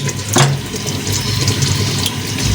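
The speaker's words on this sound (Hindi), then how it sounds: "एक गिलास पानी डालेंगे।" A glass of water poured into mutton cooking in a clay pot, a close splashing gush starting sharply and then running on as a steady liquid pour with no talking.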